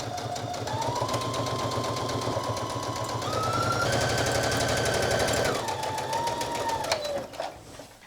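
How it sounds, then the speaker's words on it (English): Sewing machine top stitching along a seam, a rapid, even mechanical chatter running steadily and close, its motor pitch stepping up and down as speed changes before stopping. "now we're going to do some top stitching along this seam"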